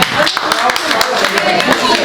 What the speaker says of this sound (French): vous l'applaudissez s'il vous plaît